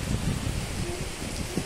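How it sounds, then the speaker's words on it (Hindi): Rain falls steadily at home during the rainy season, a dense, even patter close by with faint low rumbles underneath. "अपने घर पे पहली बार बारिश देखी इस मौसम की"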